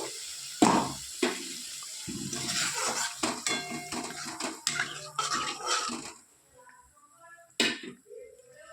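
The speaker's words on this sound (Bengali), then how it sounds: "এরপর আমি জল দিয়ে দেবো পরিমাণ মতো" Water poured into a simmering butter paneer masala, with clattering utensil knocks and stirring at first, then a gurgling pour and bubbling that fade into a quieter hiss, plus a late clank.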